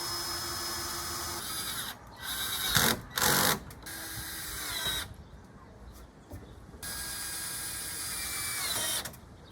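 A power drill drives a screw through a beam into a post while building a catio deck, whirring in several close bursts of varying length separated by pauses, over a steady background hum.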